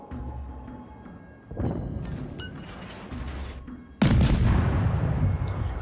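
Naval artillery shells fire and explode in the World of Warships video game, with rumbling booms that swell into a heavy, sustained close blast near the end, and no speech.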